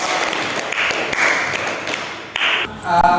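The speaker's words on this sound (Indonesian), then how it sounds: "Yang kita beri tepuk tangan untuk teman-teman yang menjawab" Applause from participants in an academic coaching session, honoring classmates who answered; a dense wash of many hands clapping, fairly close and steady for about three seconds, with a brief dip near the end.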